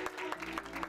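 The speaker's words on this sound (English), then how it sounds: "Clap your hands." A small church congregation claps along after a prayer, several distinct rhythmic claps at a quick steady beat, fairly faint and roomy.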